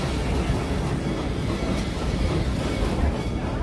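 The Serengeti Express tourist train at Busch Gardens Tampa rolls steadily along its rails, a continuous dense rumble with faint clickety-clack and wheel noise, close and loud with no pauses.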